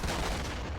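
Gunfire and explosions from the video game Army Men: Plastic Wars, a dense, continuous battle roar of shots and booms lasting under a second with no gaps.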